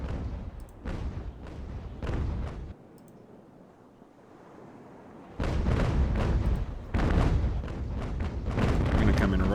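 Naval cannons fire in Ultimate Admiral: Age of Sail. Booming shots go off in irregular bursts, with a quieter lull in the middle. The firing mixes with sea noise, and a voice talks over parts of it.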